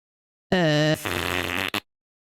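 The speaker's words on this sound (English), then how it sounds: "So I'm farting." A single loud fart, a buzzy tonal burst that shifts into a rougher, sputtering stretch, about a second and a quarter long, with a brief extra puff at the end, then silence.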